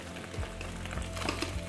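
Egg pancake batter sizzles softly in a pan for a rural Transylvanian salad soup, a faint continuous frying crackle with a few light pops and a low steady hum underneath, no voices.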